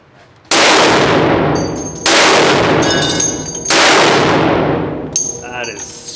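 Three loud .50 BMG rifle shots, each followed by a bright metallic ring from a struck steel target, spaced about a second and a half apart, with a fainter clang at the end.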